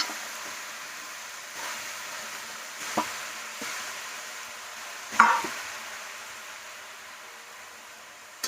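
Vegetable stems for a Bengali labra mixed-vegetable dish sizzle softly in a pan over a medium flame, a low steady hiss broken by a few sharp scraping stir strokes up close, with no voices.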